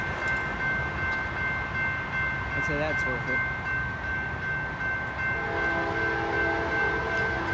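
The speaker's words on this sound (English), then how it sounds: "I think we got an empty rail train or something." A welded rail train rolls past the Cook Rd crossing with a steady rumble of cars and a sustained horn tone, while someone speaks briefly over it.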